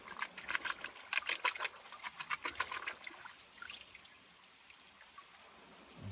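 Water rinses off a gold sluice mat, a faint trickling and splashing with quick spattering bursts early on that thin out into a quieter dribble.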